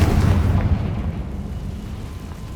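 A Confringo blasting spell in Hogwarts Legacy goes off as a loud booming explosion at the start, its rumble slowly decaying over the next two seconds.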